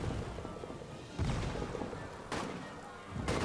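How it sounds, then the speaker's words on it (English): Artillery fire in the trench warfare game All Quiet in the Trenches: broad booming blasts under a constant roar of battle noise, with several heavy impacts at intervals, no talking. "The artillery was close."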